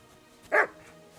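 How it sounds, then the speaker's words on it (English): A single short dog bark in the video game Kingdom Come: Deliverance II, fairly close and clear over a quiet background. "Barking. He's coming from over there."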